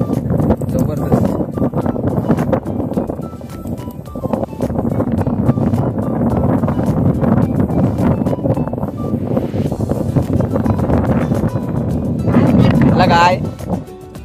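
Strong wind on a hilltop buffets the microphone with continuous low rumbling gusts, while people talk throughout.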